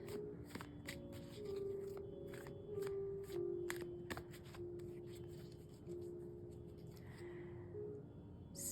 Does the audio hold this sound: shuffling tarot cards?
yes